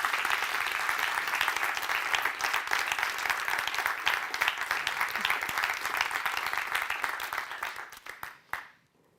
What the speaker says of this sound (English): I would like to thank and give a big applause to our AISTS staff